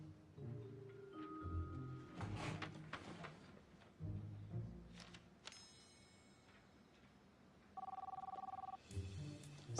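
In a classroom, a phone rings in short electronic bursts amid clattering and shuffling, the ring repeating twice with a pause between, fairly faint against room noise.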